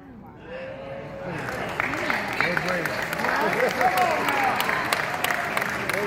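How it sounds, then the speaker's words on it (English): An audience at a live talk breaks into sustained clapping that swells and holds steady, with a speaker's voice and scattered cheers running underneath. "You ain't clapping like you heard what I said."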